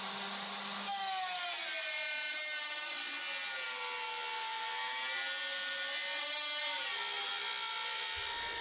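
Power tool cutting into the bottom of a wooden pinball backbox, a steady high-pitched whine that shifts pitch as the cut progresses, continuous and close with no talk.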